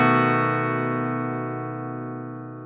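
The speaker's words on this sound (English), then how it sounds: "a rake is where you slowly drag or rake the" A guitar chord is raked with a plectrum dragged slowly across the strings, then left ringing as one sustained, slightly gritty chord that fades steadily over about three seconds, with no talk.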